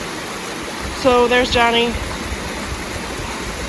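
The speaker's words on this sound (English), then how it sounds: "We're at the top falls, and it's hard to see because all the water is obviously underneath those trees." A waterfall at the top falls in Montana, hidden beneath trees, gives off a steady, distant broadband rush. Someone speaks briefly over it.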